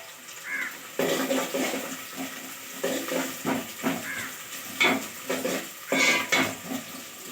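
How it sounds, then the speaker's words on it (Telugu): Onions frying with garlic and curry leaves in a pan for fish curry, a steady close sizzle broken by repeated scraping stirs and bursts of crackling. "ఎర్రగడ్డలు బాగా దోరెత్తి వచ్చేంత వరకు వేయించుకోవాలన్నమాట"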